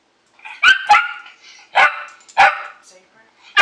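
A dog barks five times in short, sharp, close bursts with small gaps between them, over a faint background of speech.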